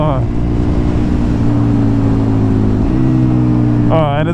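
The engine of a KTM 1290 Super Duke R motorcycle drones loud and steady, with quickshifted gear changes that make a brief break in pitch partway through, heard from the rider's position with wind rush.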